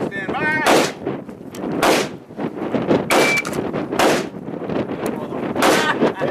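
Loud gunshots at an outdoor gun range during a security officer shooting evaluation, about five or six sharp cracks spaced at irregular intervals, each with a ringing tail.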